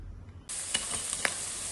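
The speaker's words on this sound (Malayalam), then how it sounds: "ഇനി നമുക്ക് ഇടയ്ക്കിടയ്ക്ക് ഇളക്കി നെയ്യ് മുഴുവൻ ഊറ്റിയെടുക്കാം." Pork fat sizzling in a pan as it is stirred to render out the fat for an Easter pork fry, a quiet start then a sudden loud, steady hiss with a few scraping stir sounds.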